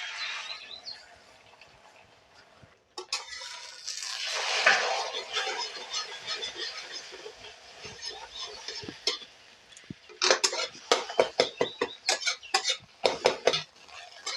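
Beaten egg poured into hot oil in a kadai wok for egg chowmein, a hissing sizzle swelling after the pour, then spatula scraping and clattering against the pan in quick, close strokes.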